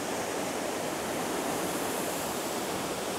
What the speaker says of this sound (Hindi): पानी बिल्कुल धारा प्रवाह